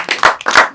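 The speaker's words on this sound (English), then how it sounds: "it's a round of applause" A few sharp hand claps in a short, uneven burst, close and fairly loud, as a brief round of applause during a football discussion show about Arsenal.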